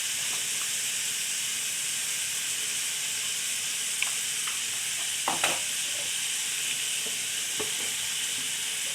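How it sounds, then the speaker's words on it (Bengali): Potatoes frying with turmeric in a hot pan, a steady broad sizzle and hiss throughout with a few clinks and stirring scrapes, close and fairly loud, no talk. "আমি এখন আলুগুলো ছেড়ে দেব। দিয়ে দেবো একটু হলুদ"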